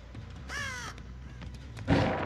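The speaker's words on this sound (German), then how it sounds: "Da hinten sind wieder Raben aktiv." Ravens cawing in the horror game Dead by Daylight, a harsh croaking call near the start and another louder burst near the end, over a low ambient game drone.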